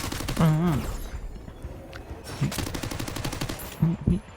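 Rapid gunfire from the Free Fire mobile battle royale game, bursts of sharp repeated shots mixed with game effects while someone talks excitedly over it.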